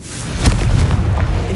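Confringo spell explosion in Hogwarts Legacy on PS5, a short, loud, rumbling boom with a thudding low-end burst lasting about a second.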